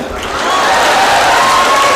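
An audience at a motivational speech event in Karimnagar breaks into applause that swells after a brief lead-in and stays loud and continuous, with a faint cheer or whistle above it.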